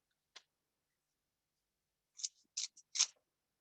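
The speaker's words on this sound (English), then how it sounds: "I'm gonna cut the end here, and I'll cut a bit at the top too" Scissors snip the end of a flower crown base: one crisp cut, then a pause and a quick cluster of three or four close, sharp snips in a quiet room.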